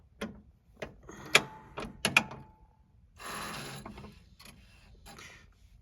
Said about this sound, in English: So you see it sweeps the gauges. There's a stepper motor on each of those needles.